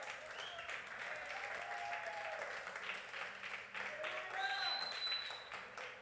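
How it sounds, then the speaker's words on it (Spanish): A congregation applauds during a church teaching service, a faint, distant, continuous patter of clapping with a few soft voices and tonal traces mixed in. "Dele un aplauso al Señor."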